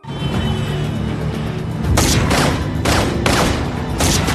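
Intense gunfire rings out in a shootout from the 2023 action film Breakout, with loud, dense bursts of shots layered over a constant rumbling backdrop and several sharp volleys close together.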